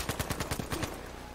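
Rapid burst of gunfire aimed at the player in the shooter game Battlefield V, about seven evenly spaced sharp shots fired in quick succession, close and fairly loud, with no talking.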